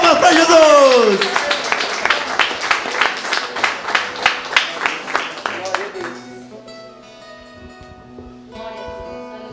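Church congregation clapping in a steady rhythmic beat in praise of Jesus, starting under a loud voice and then continuing alone before fading into quieter tones.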